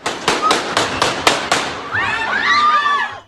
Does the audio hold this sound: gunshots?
yes